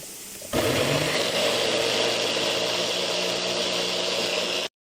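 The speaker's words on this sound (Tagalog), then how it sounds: "Blender ito." An electric blender switches on abruptly and whirs loudly and steadily for about four seconds blending ingredients for meat, then cuts off.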